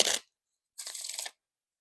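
Playing cards with a one-way back design are shuffled in two quick, crisp riffles: a short one, then a longer burst, with silence between.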